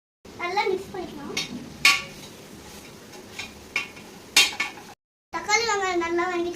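A spoon scrapes and clinks in a pot while tomato, salt and turmeric are stirred. The metallic knocks come at irregular moments beneath a voice speaking close by.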